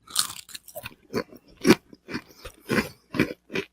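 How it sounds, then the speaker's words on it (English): Trader Joe's turkey and stuffing seasoned kettle chips crunched between the teeth right at the microphone: a run of loud, close, crackling bites and chews in uneven bursts, with no talking. "I'll bite this into the microphone. You can hear there was some really good crunch within these Kettle chips."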